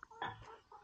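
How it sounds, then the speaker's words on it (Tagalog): A chicken gives a few short, close clucks inside a building with a fireplace in Belgium, the calls fairly faint and brief. "May manok pa pala dun sa loob."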